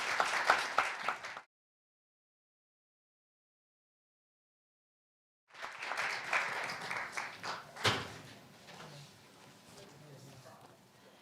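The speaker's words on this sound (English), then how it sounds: "please welcome Professor Young with a big round of applause." A conference audience applauds a speaker being welcomed to the podium, with a short burst of clapping, then a silent gap, then a longer round of steady applause that fades away.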